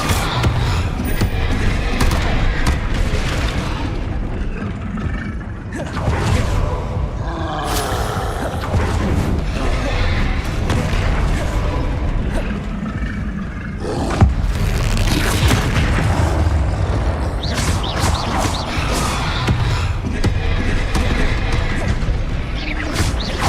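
Spell blasts and booming impacts from the Hogwarts Legacy video game come one after another, dense and loud, with crashes, whooshes and thuds layered over a busy game soundtrack for the whole stretch.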